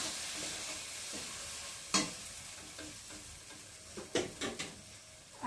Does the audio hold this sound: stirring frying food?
yes